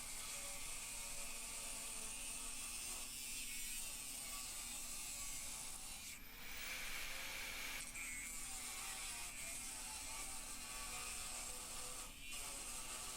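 A metal cutting disc, likely on an angle grinder, slices through chattering sheet metal with a continuous close whirring grind, the pitch shifting briefly mid-cut before the steady rasp carries on alone.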